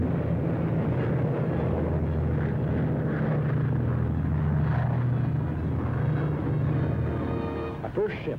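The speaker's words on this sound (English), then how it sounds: "Bombers went out, and six are coming back." WWII bomber aircraft returning to land at an airfield in the Aleutian Islands, a loud continuous propeller engine drone and rumble with steady low tones, joined by a brief voice near the end.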